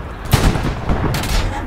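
Artillery fire in Hell Let Loose at El-Alamein, a heavy gun blast followed by a second boom and rumbling echo, loud and close.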